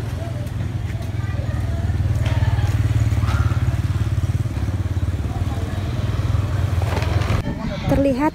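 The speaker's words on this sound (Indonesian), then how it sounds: "Terlihat Ananda Farel Prayoga menaiki sepeda motor Scoopy" A Honda Scoopy motor scooter idles and is ridden away from a school, its small engine giving a steady low putter, close by, with street clatter and a few thumps. People talk over it.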